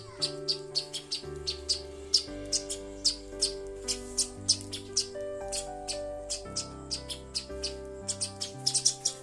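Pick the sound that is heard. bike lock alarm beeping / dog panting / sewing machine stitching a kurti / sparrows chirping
sparrows chirping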